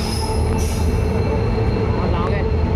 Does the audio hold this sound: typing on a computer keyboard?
no